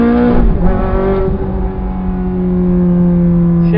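A Ferrari F430 with a Fabspeed exhaust, in race mode, accelerates with a loud, close engine drone whose pitch climbs steadily after a brief dip near the start.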